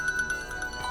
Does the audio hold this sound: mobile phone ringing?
yes